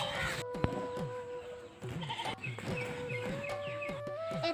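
A young calf at a home in Assam during the Goru Bihu cattle festival gives a series of short, repeated bleating calls, fairly close. Fainter bird or poultry sounds carry in the background.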